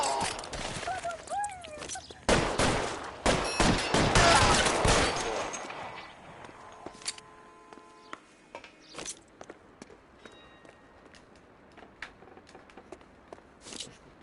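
Heavy bursts of gunfire from the crime game L.A. Noire crowd the first few seconds in a loud, dense volley, then thin to sparse, fainter shots and scuffling footsteps, with a voice briefly audible.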